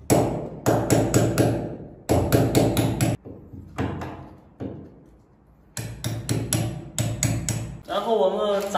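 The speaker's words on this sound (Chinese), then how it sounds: "现在就用我们的套筒把这4个膨胀丝给它打进去" A hammer drives four expansion bolts in through a socket while a ceiling-mounted clothes rack is installed: bursts of rapid, ringing metallic blows in quick clusters, then a quieter pause with scattered taps, then another run of sharp strikes.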